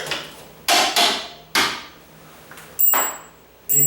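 Sharp metallic hammer taps drive a hinge pin out of a door using a screwdriver as a punch, four or five separate close strikes with brief ringing decays and pauses between.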